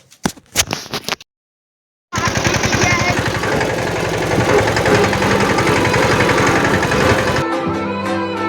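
A tractor engine runs loud and close with a rapid, knocking diesel thump. It starts after a few sharp knocks and a brief silence, then holds steady before cutting off.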